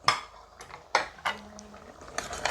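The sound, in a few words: stirring mango and drumstick curry in a pot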